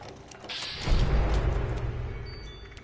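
The Super Duper perk in the video game Fallout 76 triggers on picking up ammunition: a brief high, bright chime rings out, followed by a soft low thud and a fading rumble.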